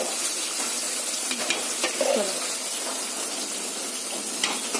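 Food frying in a pan is stirred, with a steady loud sizzle and hiss close by and occasional scraping strokes of a spatula against the pan.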